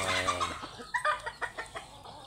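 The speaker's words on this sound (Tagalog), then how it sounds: "Mga background mga idol, may mga manok" Chickens cluck in the background on a rainy day, an irregular run of short, moderately loud clucks with a higher drawn-out call at the start.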